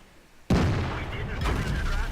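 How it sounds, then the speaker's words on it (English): A heavy tank gun, an E100 firing a HEAT shell in a tank combat game, goes off in one sudden loud blast after near silence, followed by a sustained rumbling roar of battle noise. "E100 firing heat, bounces, no damage"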